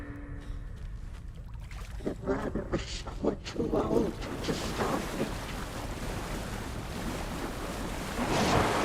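Water and waves in the Alan Wake 2 game, a broad rushing wash of surf and wind that swells louder toward the end, with speech over the earlier part.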